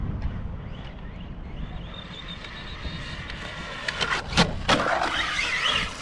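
A Kyosho Fazer Mk2 1/10 RC car with a 1972 Mazda Savanna GT tuned body is driven at full throttle in a yard, its motor whining up in pitch and growing louder, with sharp clatters and bangs near the end.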